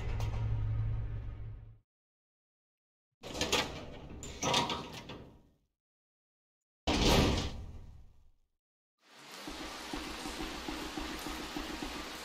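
A door opening in Resident Evil 0, heard as a close, loud sequence of mechanical clunks and a creaking, sliding swing separated by brief silences, followed by a steady ambient drone after it opens.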